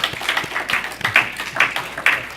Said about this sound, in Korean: 우리 박수로 환영하시죠